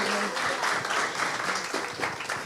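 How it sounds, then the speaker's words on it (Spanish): Church congregation applauding during a bilingual Spanish-English Bible sermon, a thick continuous rush of clapping from many hands, moderately loud and even, tapering slightly at the end. "Dale un aplauso a esta mujer."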